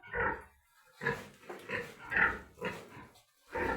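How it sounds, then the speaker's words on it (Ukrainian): A weaned sow grunts in a steady series of low, rough snorts close by, about seven grunts in quick succession. "Ось оця свиноматка, яку ми відлучили."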